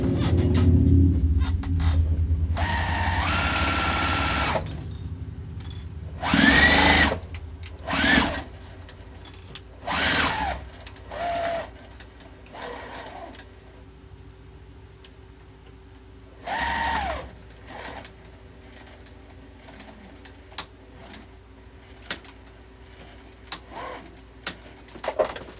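A sewing machine stitches a fabric seam around a wallet made from quilting cotton, running in a steady whir at first, then in short separate bursts with pauses, close and clear.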